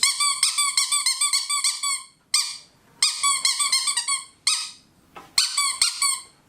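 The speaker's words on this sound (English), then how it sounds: "it's a squeaky toy." A rubber squeaky toy whale squeezed over and over, giving bright, loud, high-pitched squeaks in quick rhythmic bursts with short pauses between groups, up close and alone.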